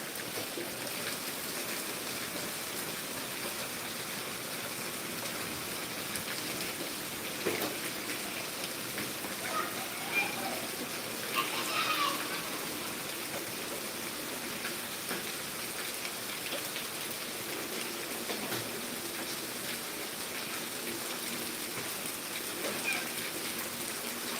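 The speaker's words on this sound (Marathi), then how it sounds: "आता जवळपास दहा मिनिटं झालं कंटिन्यू पाऊस चालू आहे" Steady rain falls throughout in Karad, India, a soft continuous patter with scattered louder drops, fairly quiet and with no voices.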